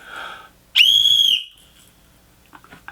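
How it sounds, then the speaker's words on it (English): A small red plastic survival whistle gives one loud, shrill, steady blast lasting about half a second, close by, followed by quiet and a few faint handling noises. "We got a little red whistle."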